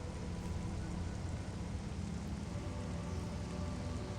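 Steady rain in Metroid Prime Remastered, a dense, even hiss of falling water holding constant throughout with no speech.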